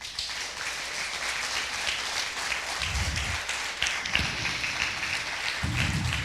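A church congregation gives a strong round of applause during a service, a steady, fairly dense clapping wash lasting several seconds with some low thumps mixed in.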